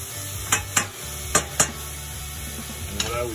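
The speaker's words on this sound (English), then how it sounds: "Mix them up, just heat them up a bit." Tomatoes stirred in a hot pan during BBQ rib rum sauce prep, with a steady soft sizzle underneath and five sharp utensil scrapes or taps against the pan spread across a few seconds.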